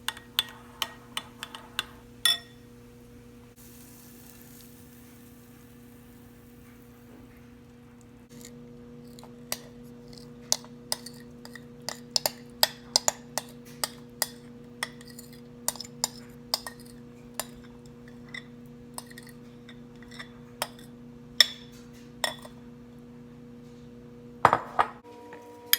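A spoon scrapes and clinks against a dish while hamburger is stirred into a tater tot mixture, irregular sharp taps and clicks over a low steady hum, close and fairly quiet, no talking.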